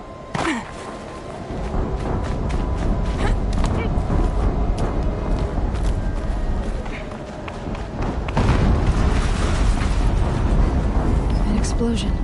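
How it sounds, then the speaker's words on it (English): An explosion booms in the Horizon Zero Dawn video game on PS4, a loud burst with rumbling debris and whooshes amid continuous combat noise, with a voice speaking over it. "An explosion."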